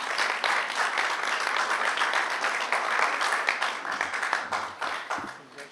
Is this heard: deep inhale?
no